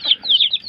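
A backyard chicken clucks in a short burst of high, wavering calls, close and fairly loud with no voices.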